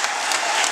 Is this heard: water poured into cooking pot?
no